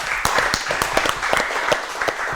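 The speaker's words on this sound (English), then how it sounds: "Give a clap to Aiza and Afsa." A studio audience at a Ramadan quiz show applauds contestants with steady, dense clapping that runs throughout at a lively, even level.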